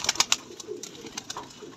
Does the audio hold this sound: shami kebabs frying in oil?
no